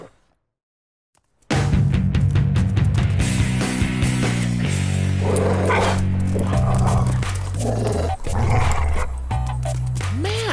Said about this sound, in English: Well, the good news is the dogs can't get us in here.